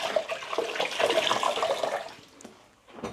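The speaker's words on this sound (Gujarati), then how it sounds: "આપણે પાણીથી ખાલી સાફ જ કરવાનું છે" Tap water runs and splashes while a gas stove is rinsed clean in a home kitchen. The gush is strongest early, then thins out and ends with a few small knocks and clinks.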